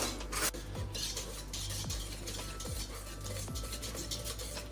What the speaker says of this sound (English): I'm then going to pour both of these into the bowl on the bain-marie. And then we're just going to mix them together.